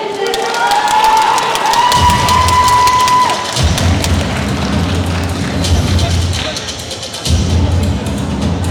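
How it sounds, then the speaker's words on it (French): Loud festival crowd at a manga convention contest cheering and clapping, with dense children's shouts and applause rising and falling in waves, and a whistle-like tone early on, sustained throughout at close range. "On l'applaudit très fort, s'il vous plaît."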